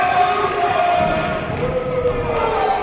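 A crowd at a WrestleForce wrestling main event in Romford roars and cheers in a sustained, reverberant wash, with a commentator talking over the top.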